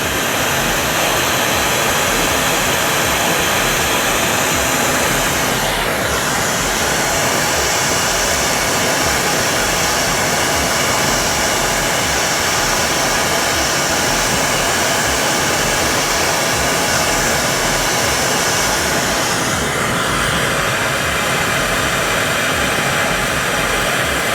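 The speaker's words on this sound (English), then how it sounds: "Just going to turn the flame down so we get a small kind of pinpoint flame." A Nortel Minor glassblowing torch heating glass gives off a loud, unbroken roaring hiss, and its tone shifts slightly twice as the flame is adjusted.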